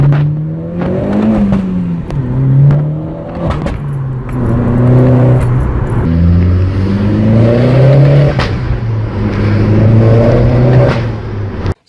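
A car engine revs up and falls repeatedly as the clutch goes in for gear changes, with sharp exhaust pops and bangs at around 3,500 rpm. It is loud and close, and the rising and falling engine note is broken by brief crackling bursts.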